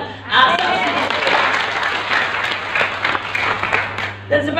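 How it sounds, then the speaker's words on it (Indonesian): A church congregation claps together during a sermon, with a dense, steady burst of many hands over a low hum that ends abruptly near the close, where a voice starts to talk. "Tepuk tangan."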